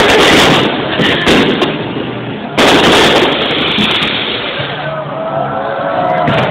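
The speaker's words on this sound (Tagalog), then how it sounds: "Maraming paputok." Loud, sharp bursts of firecrackers crackle repeatedly outdoors, with a continuous noisy background between the pops.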